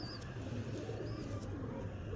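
Pigeons coo in low, steady murmurs inside a box holding a pedigree breeding pair, a soft continuous burble close by with a few faint higher chirps over it.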